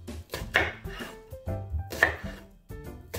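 An onion is cut into large pieces with a knife on a board, giving several firm, uneven chops with short pauses between the strokes.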